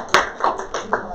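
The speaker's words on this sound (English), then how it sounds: "so if y'all want to clap, you can clap." An audience gives a short burst of handclaps at a religious testimony talk, a few distinct claps scattered across about a second, close and moderately loud.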